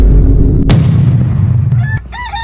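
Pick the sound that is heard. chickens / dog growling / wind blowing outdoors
chickens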